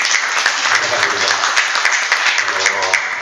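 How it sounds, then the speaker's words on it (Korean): Audience applause welcomes a speaker at an Incheon public forum and debate, a steady wash of clapping that fills the whole stretch at close range, with some voices mixed in. "박수로 환영해 주시고 가겠습니다."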